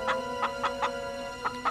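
A chicken clucks in short, repeated bursts over a steady hum, fairly close.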